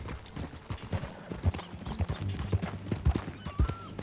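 Horse hooves clip-clopping at a steady walking rhythm in a Red Dead Redemption 2 game scene, moderately close, with faint background ambience.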